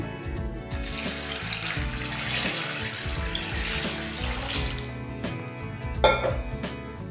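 Water running from a tap into a metal pot for cooking basale greens and moong dal sambar, a continuous close splashing flow with occasional clinks of the vessel.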